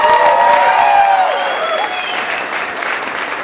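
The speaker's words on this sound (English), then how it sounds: "Let's hear another big round of applause." An audience at a 2014 talent show applauds loudly and continuously, a dense close wash of clapping that eases slightly toward the end.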